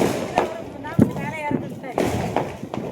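A string of Diwali firecrackers bursts in rapid, uneven cracks and thumps close by on a street, with voices talking over the noise.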